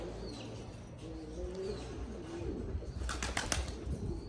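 Pigeons cooing in a loft, low soft murmuring calls close by, with a brief flutter of wings and some chirps near the end.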